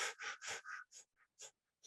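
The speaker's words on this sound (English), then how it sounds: "Fire breathing again." Quick, forceful breaths pumped in a steady rapid rhythm during a breathing exercise, close and loud, roughly eight puffs in under two seconds with no talking.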